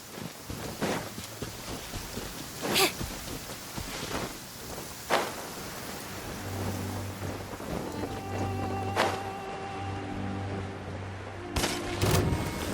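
Rain falls in the Genshin Impact video game, a steady hiss of rainfall with occasional sharp cracks and thumps and a low tonal hum rising beneath it partway through.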